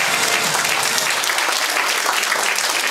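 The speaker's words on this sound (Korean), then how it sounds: "오늘 개회 기도해 주시는 우리 송정명 목사님 큰 박수 부탁합니다." Dense, steady applause from a ceremony audience fills the whole moment, many hands clapping at once without pause, with no voice over it.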